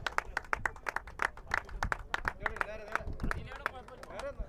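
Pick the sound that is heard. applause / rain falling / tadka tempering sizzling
applause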